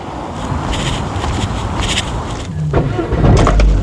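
A car engine cranks and catches, then settles into a steady running rumble that grows louder toward the end, heard close up with no talking.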